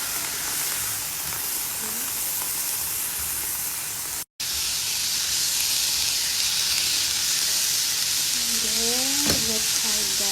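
Banana flower being stirred in a hot pan, a steady sizzling hiss with light scraping from the stirring and no talking.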